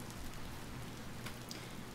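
Steady rain falling in the video game Cattails, a soft, even hiss of drops on surfaces that runs through the whole stretch with no break and no voices.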